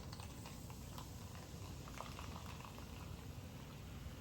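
Vodka mixed with Diet Cola fizzing in a glass after pouring, a faint, fine crackle of bursting bubbles that continues evenly throughout, quiet and close with no voices.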